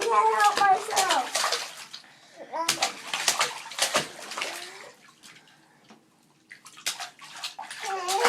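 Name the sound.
child splashing water in a bathtub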